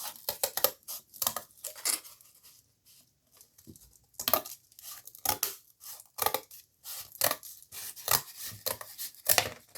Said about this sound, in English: I literally cut strips of cardboard about this size